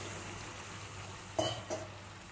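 Pumpkin curry (kumro chhokka) in a pan gives a soft, steady sizzle after a little water is added, with two brief louder clinks or stirs near the end, close and fairly quiet.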